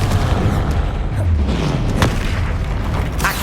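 Repeated booming blasts from a Confringo fire spell in Hogwarts Legacy, loud deep thuds with sharp cracking bursts layered over a continuous rumble, close and dense for the whole stretch.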